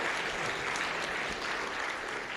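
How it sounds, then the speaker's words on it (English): Steady audience applause fills a conference room after a colleague is introduced as the new outdoor activity chair, dense and even clapping from a crowd with no talking over it. "So let's give him a round of applause."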